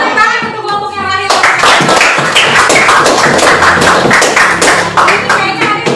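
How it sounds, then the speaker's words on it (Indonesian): Classroom students clapping for another group, a loud, dense run of close hand claps that starts abruptly after a voice and keeps a rough rhythm. "Tepuk tangan untuk kelompok yang lain."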